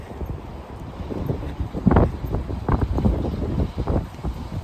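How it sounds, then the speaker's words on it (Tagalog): Gusty autumn wind in Finland buffets the microphone in low rumbling bursts, loud and close, with no one speaking. "Ang hangin, kaya nga sobrang lamig eh."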